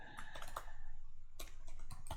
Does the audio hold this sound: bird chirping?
no